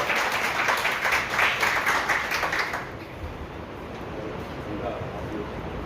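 An audience at a Hindi poetry gathering claps steadily for about three seconds, then the applause drops away into a quieter murmuring room.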